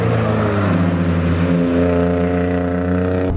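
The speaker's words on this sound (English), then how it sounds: "Motor sounds good." A BMW E36 M3 inline-six engine heard from inside the car while driving, with a loud, steady humming drone whose pitch climbs gently under load before cutting off abruptly at the end.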